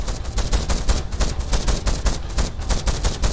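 Rapid automatic weapon fire from a vessel in the naval building game From the Depths, a dense unbroken stream of sharp, loud shots at a fast steady rhythm with no talking.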